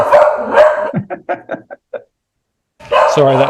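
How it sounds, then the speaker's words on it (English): Dogs barking indoors during a thunderstorm, a short burst of several sharp barks and yips close by, mixed with a person talking before and after. "there goes the dogs"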